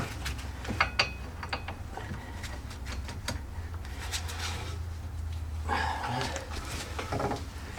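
Hand tools work loose the brake caliper bracket on a Peugeot 407, with sharp metallic clicks and ratcheting bursts, some bunched together, over a steady low hum in a workshop.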